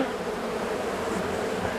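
Dense, steady buzzing of many bees around a hive in an apiary, close and continuous with no pauses.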